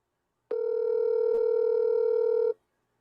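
A single long ringback tone on an outgoing phone call, steady and clear, lasting about two seconds before cutting off into silence.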